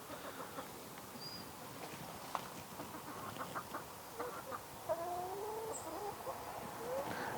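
Faint chickens clucking and murmuring at a distance on an allotment garden in October, a few soft calls scattered over a quiet outdoor background.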